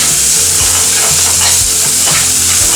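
Onions and garlic fry loudly in a pan, a dense and constant sizzle with stirring and scraping mixed in. It is close and loud, with no talking.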